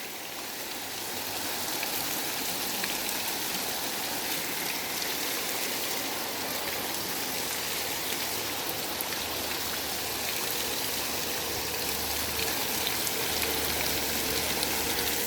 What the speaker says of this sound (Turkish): Yağmur yağıyor gibi akıyor.